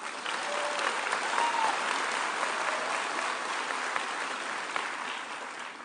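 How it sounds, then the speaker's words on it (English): Graduating class of 2022 applauding themselves at a spring commencement ceremony, a large crowd clapping steadily and evenly throughout, with a few faint cheers rising above it. "Please give yourself a round of applause."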